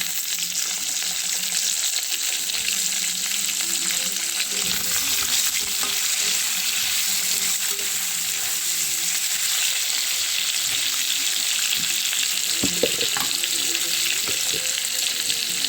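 Potatoes and onions sizzling steadily in hot oil in a pan, a constant close frying hiss with occasional stirring clinks and scrapes.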